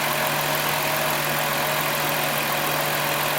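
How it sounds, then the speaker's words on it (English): A Dodge Caravan minivan engine idles with a steady, even hum and constant broadband rumble, close and unbroken throughout. "Let me go ahead and start it up."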